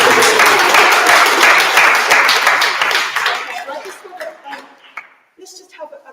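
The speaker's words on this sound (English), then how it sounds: "Let's just have a round of applause for all four of our speakers" An audience at an Ambedkar Day 2024 gathering applauds its four speakers, strong dense clapping that thins and fades over several seconds, with scattered chuckles and voices as it dies away.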